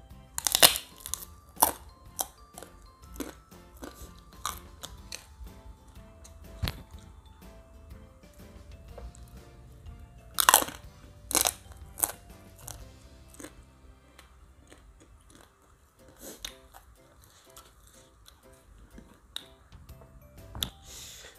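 Spicy kerupuk crackers served with Mie Arirang noodles are bitten and chewed close to the mic, producing scattered sharp, crisp crunches with quiet pauses between and no talking.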